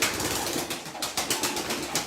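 Pigeon cooing at a bird market, a close, repeated rhythmic throaty coo over a busy background.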